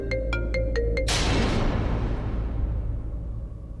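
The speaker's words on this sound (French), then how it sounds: "Le téléphone sonne" A phone rings briefly in a French-dubbed TV drama scene: a few quick repeated electronic beeps, then a loud dramatic swell of music that slowly fades out.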